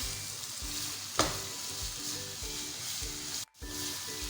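Keema stew mixture sizzles steadily in a pan while being stirred, a continuous close frying hiss with rhythmic scraping strokes and a brief dropout near the end, no voices.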